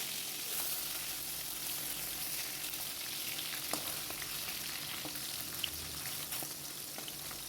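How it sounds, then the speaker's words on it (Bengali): Fish, one side already browned and flipped, frying in a pan makes a continuous soft crackling sizzle at moderate level, with a couple of faint clicks and no talking. "তো মাছগুলো এক সাইড ভাজা হয়ে গেছে, মাছগুলো আমি উল্টিয়ে দিয়ে"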